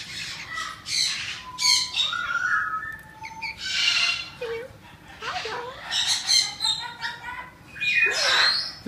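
Several pet parrots squawk loudly and close by in a home, in harsh overlapping bursts with short chirps between calls and a steady low hum underneath.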